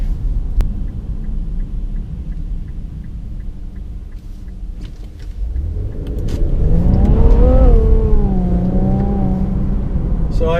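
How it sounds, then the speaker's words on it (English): Infiniti Q60 3.0T AWD under full throttle through a corner: a low engine rumble builds into a loud, rising rev from about six seconds on, with the pitch climbing and sweeping through gear changes inside the car. "So I gave it full throttle going through that corner."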